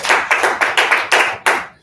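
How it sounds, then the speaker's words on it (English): A small group gives a short round of applause, about eight distinct bursts of clapping in quick succession, close and fairly loud, ending abruptly after under two seconds. "A little round of applause for John."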